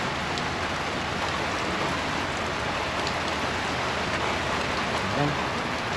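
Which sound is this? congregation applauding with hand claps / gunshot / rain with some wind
rain with some wind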